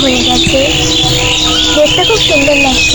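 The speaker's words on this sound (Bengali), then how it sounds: "শীতের সকালে পাখির কিচিরমিচির শব্দটা শুনতে কি সুন্দর লাগছে" Small birds chirp and tweet repeatedly on a foggy winter morning, bright calls close by and continuous, with a person speaking over them.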